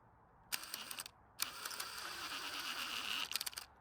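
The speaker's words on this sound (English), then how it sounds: "So I'm going to use the 1/4-20 tap bit." A 1/4-20 tap bit cuts threads inside a van build, heard as close bursts of ratcheting, grinding mechanical whirring that start and stop several times, fairly quiet overall.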